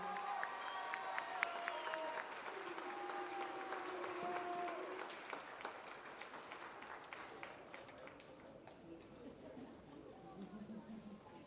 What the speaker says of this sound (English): Would everyone welcome him, please, with a warm round of applause?